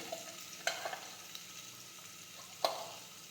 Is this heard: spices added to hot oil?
yes